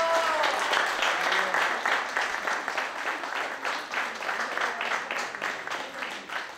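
Gathering in a garden at a religious Marian event applauds the people who tended the garden, a moderately distant clapping with distinct rhythmic bursts fading slightly over several seconds, a voice briefly audible at the start.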